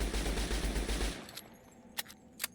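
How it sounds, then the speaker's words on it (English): Runaway automatic gunfire in Fallout New Vegas, a loud dense burst for just over a second before cutting off, followed by a quieter lull with two sharp isolated shots. "your hand's off the controller and now it's stuck in auto-fire mode"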